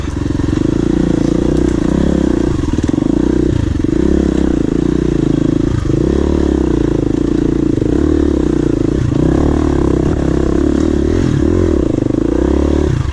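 A KTM 350 EXC-F dirt bike ridden on a trail at NATRA in West Point, Tennessee, its engine loud and close throughout, with steady droning and rising and falling revs.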